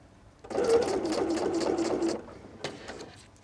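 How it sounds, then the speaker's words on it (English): A sewing machine runs a short burst of top stitching about an eighth of an inch from the edge of a drawstring backpack panel, a steady close whirring for under two seconds followed by a few small clicks. "I'm top stitching about 1/8 of an inch from the edge."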